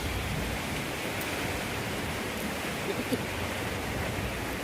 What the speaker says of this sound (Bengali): গুড়ি গুড়ি বৃষ্টিও হচ্ছে